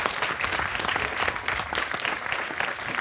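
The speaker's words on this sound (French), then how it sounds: "vous avez applaudissé, vous avez raison," A studio audience claps for a French butcher, a dense, steady burst of applause filling the room without a break.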